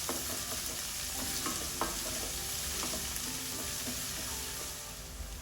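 Vegetables salted and frying in a pan, a steady close sizzle with scattered stirring clicks and scrapes that eases slightly near the end, no voices.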